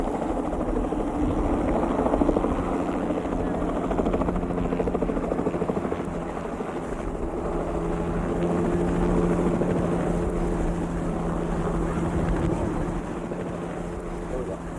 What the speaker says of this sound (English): It's now the helicopter's pilot's job to move away from the ground and traverse to his landing